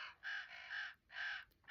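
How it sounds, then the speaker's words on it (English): Crows caw at dinner time in three loud, harsh calls with short gaps between them, close and clear over quiet background. "The crows are, it's dinner time for the crows."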